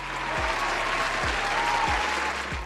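A crowd claps steadily in dense, continuous applause, fairly loud and sustained throughout.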